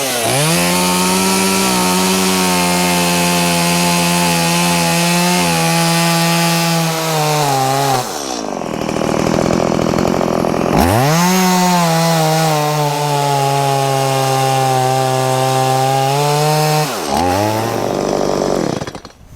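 A chainsaw, from a DeWalt FlexVolt battery versus STIHL gas comparison, bites into a tree trunk with a loud droning whine that bogs and dips, cuts out briefly, then revs back up and keeps grinding through the wood.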